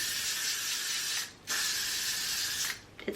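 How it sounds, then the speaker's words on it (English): Two long bursts of hairspray from an aerosol can, close and steady, with a short gap between them and a brief final puff. "also go in with half a bottle of hairspray"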